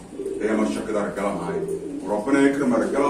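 Breeding pigeons cooing in a loft, soft throaty coos recurring under a man's continuous nearby speech.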